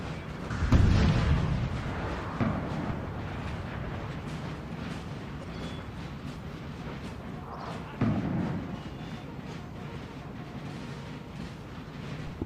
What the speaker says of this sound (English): Howitzers still firing here.